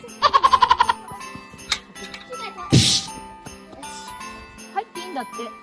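Goats at a petting farm bleat in a quick series of short wavering calls near the start, followed by scattered clanks, a brief rustle and faint voices in the background.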